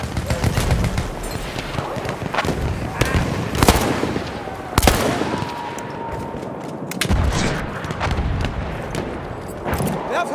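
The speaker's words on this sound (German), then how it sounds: "Granate raus!" Battlefield 1 combat: dense, loud gunfire with rapid bursts and sharp blasts, including a strong explosion near the middle and another burst later, shouted voices heard amid the fighting.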